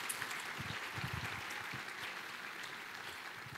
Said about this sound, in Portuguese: Dê uma forte, forte salva de palmas.